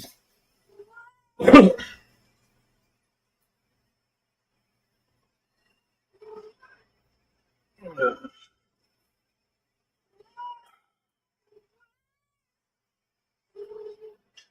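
A cat meows in short, scattered calls: one louder meow near the start, then several fainter ones spaced by long stretches of quiet.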